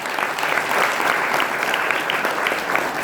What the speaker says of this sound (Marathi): तर एकदा जोरदार टाळ्या होत्या सरांसाठी.